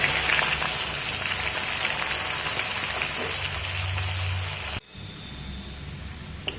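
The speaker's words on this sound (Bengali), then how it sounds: "পেঁয়াজটা আমি মাঝারি লাল করে ভেজে নিয়েছি" Sliced onion with whole cumin, whole garam masala and dried red chilli sizzles in hot oil for an egg curry, a dense steady hiss that stops abruptly near the end, leaving a quieter background.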